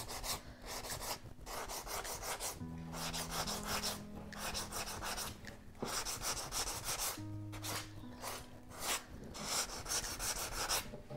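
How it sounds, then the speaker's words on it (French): Edges of a wooden dresser being scraped and sanded by hand, steady repeated rasping strokes up close with brief pauses between passes, no talking. "faire les finitions en gratouillant les arêtes"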